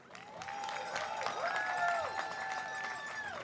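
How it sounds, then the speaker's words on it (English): A graduation audience at Laney College gives steady, soft applause from a distance, with a clear voice carrying over it throughout. "please join me in giving these remarkable artists a well-deserved round of applause"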